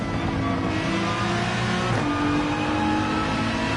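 In Gran Turismo 7, a car engine revs high and steady in fourth gear, loud and close, with a brief dip near the middle before it climbs again.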